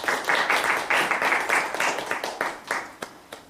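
Audience applause after a lecture, a short burst of brisk clapping from a seated crowd in a hall, loud at first then thinning into scattered claps.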